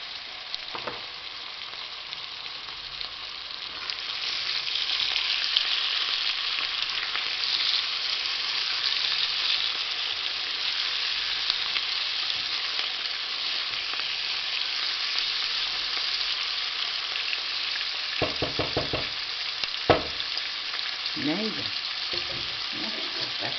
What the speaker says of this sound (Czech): Na cibulku přihodím tu naši pokrájenou plec.